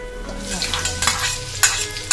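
Garlic fries in plenty of hot oil, a close, steady sizzle broken by a few sharp bursts of spatter or stirring scrapes near the end.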